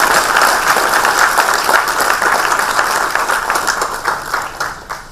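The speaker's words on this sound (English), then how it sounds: "let's have a good round of applause for all of these people" An audience applauding at the TiE Bangalore Trailblazers award ceremony, loud, full clapping from many hands sustained for about five seconds, tapering off near the end.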